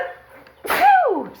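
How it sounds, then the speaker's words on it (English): One sudden, close sneeze bursts out after a brief faint vocal murmur. "And I've got to sneeze."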